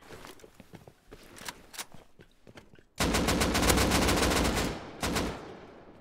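Dense bursts of rapid gunfire in the survival game Rust, scattered single shots at first, then a loud sustained volley that cuts out and resumes briefly, with no talking.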